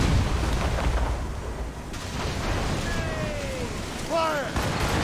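A naval battle in Assassin's Creed Rogue, with ship cannons booming in a rumbling barrage under steady sea and wind noise, while voices call out and shout over the gunfire.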